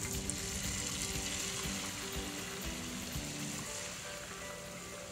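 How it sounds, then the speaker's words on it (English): Eggs sizzling in a pan for a steak-and-eggs breakfast, a steady, close crackle and spit of frying that runs alone throughout. "now let's start cooking our eggs"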